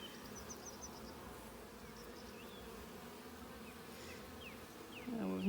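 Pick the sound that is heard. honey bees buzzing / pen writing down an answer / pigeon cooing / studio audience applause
honey bees buzzing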